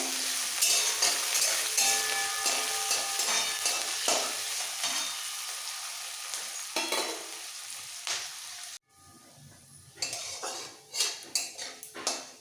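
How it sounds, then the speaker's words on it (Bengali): Chopped medium onion fries in mustard oil over cumin seeds, a close, steady sizzle broken by repeated clinks and scrapes of a spoon stirring against the pan. "এবার পেঁয়াজটাকে লাল করে ভেজে নেবো"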